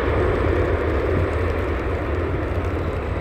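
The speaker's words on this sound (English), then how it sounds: "Using the reverse thrust, I'm pretty sure." A Virgin airliner touches down and roars under reverse thrust, a loud, dense, continuous broadband rush with a deep rumbling low end, heard from the ground without pause.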